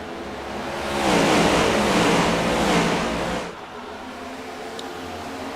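Race cars accelerate at the green flag in the iRacing video game, producing a swelling, loud engine roar that peaks and then drops to a lower steady drone.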